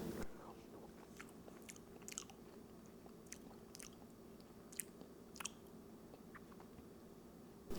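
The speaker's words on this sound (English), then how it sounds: "I'm just going to take my little spoon, just have a taste" A small spoonful of chili cooked in a truck cab is tasted, and faint soft lip smacks and chewing clicks follow one another closely in a quiet setting.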